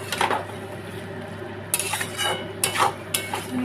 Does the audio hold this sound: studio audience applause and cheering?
no